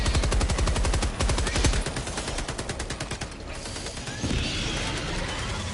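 Machine gun fire in Helldivers 2 on PS5, a loud, rapid, steady burst of shots that breaks off, followed by a mechanical clatter and lingering battlefield noise.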